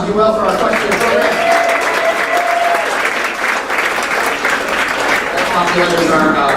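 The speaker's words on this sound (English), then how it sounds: "another round of applause, if you will, for our question program" Loud, sustained applause fills a banquet hall at a high school sports awards night, dense clapping continuing steadily throughout with crowd murmur blended in.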